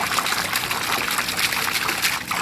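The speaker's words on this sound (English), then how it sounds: "I put a little different tip on the PVC with a little piece of smaller diameter hose to shoot it up higher." Water from a pond fountain pump sprays out of a PVC pipe fitted with a smaller-diameter hose tip, falling back into a goldfish pond as a steady, close splashing trickle that stays continuous throughout.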